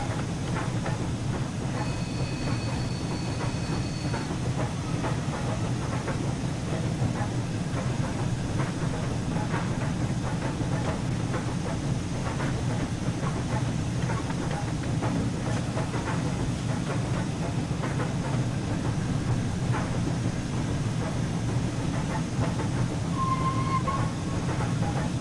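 Flying Scotsman steam locomotive in Train Sim World 4 pulling into Doncaster platform 4, a steady rumbling roll with rail clatter and a brief high squeal, continuous and fairly loud throughout with no talking.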